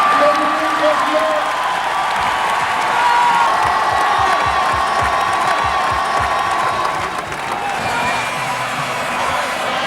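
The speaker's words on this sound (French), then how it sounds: "Je vous demande de l'applaudir, mesdames et messieurs, Dominique Rocheteau." A stadium crowd applauds and cheers for former footballer Dominique Rocheteau at his jubilee, a steady loud wash of clapping with scattered shouts and murmuring voices throughout.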